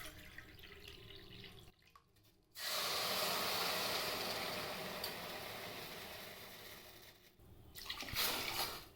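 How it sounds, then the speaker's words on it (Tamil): Water poured from a cup onto roasted moong dal in a pot, a steady hissing splash that pauses briefly, resumes loudly for several seconds, then trails off before a final pour. "நான் பருப்பு எடுத்த இதே கப் அளவுக்கு 3 கப் அளவுக்கு நம்ம தண்ணி சேர்த்துக்குவோம்."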